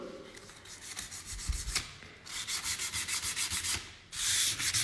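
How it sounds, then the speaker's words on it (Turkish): Sandpaper and a scraper work dried relief paste on a stencilled panel: quiet rubbing strokes give way to a quick rhythmic run of back-and-forth scrapes, then a harsher grinding rub, with no talking. "Kazıyın, zımparalayın."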